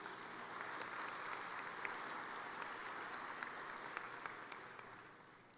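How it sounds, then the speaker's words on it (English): A college graduation ceremony audience breaks into steady applause celebrating an institution's 25 years, a dense, fairly distant wash of clapping with occasional crisp claps on top, tapering off at the very end. "let's give them a round of applause"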